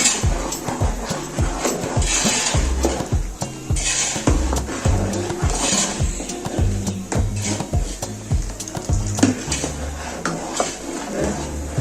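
A spoon stirs Kashmiri pink tea with dry milk in a cooking pot, making a steady, close run of soft knocks and scrapes against the metal that repeats through the whole stretch.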